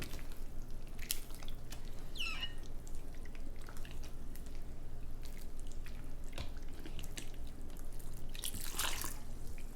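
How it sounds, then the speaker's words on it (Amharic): Lukewarm water dribbled into fermented bread batter for Ethiopian flatbread, giving soft, scattered drips and wet squishes at close range, with a couple of brighter splashy bursts and no voices. "ይሄንን ለብ ባለ ውሃ ቀጠን አደርጋለሁኝ።"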